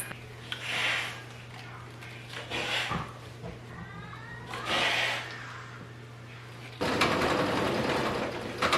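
A sewing machine top stitching a trouser seam runs in short bursts with pauses, then a louder steady whir near the end; some faint background noise between runs.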